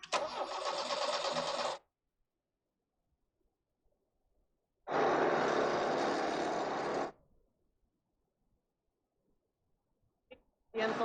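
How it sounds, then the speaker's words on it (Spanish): Car engine with fuel injection being restarted, two loud bursts of engine noise of about two seconds each, separated by silence, and a third burst beginning at the very end. "Encendemos nuevamente el motor."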